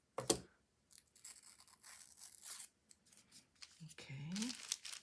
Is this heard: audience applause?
no